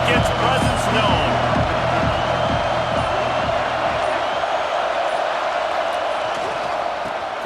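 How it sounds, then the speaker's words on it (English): Stadium crowd noise from EA Sports College Football 26 fills the background as a dense, steady roar, with rhythmic stomping or chanting pulses early on. "This crowd ready to make its presence known."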